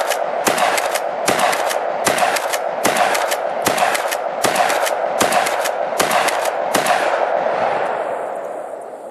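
UTAS UTS-15 shotgun fired outdoors in a fast string of about nine loud, evenly spaced blasts, each ringing into the next, fading after the last shot.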